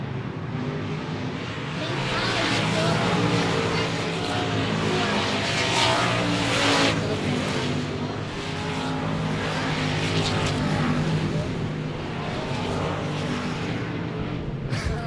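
Race cars roar around the Cotton Bowl Speedway oval in a continuous, loud engine drone that swells and fades slightly as the pack passes, with a commentator talking over it throughout.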